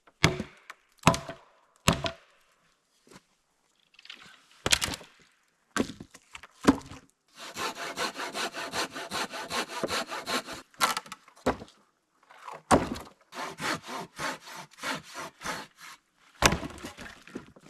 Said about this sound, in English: What I need to do now is just cut these logs down to size so that I can actually build the shelter.